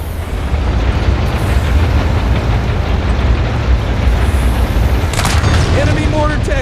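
Continuous booming mortar-tank explosions in the Halo: Campaign Evolved battle rumble steadily and loud throughout, with a few sharper bursts and whistling debris near the end.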